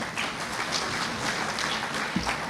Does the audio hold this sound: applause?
yes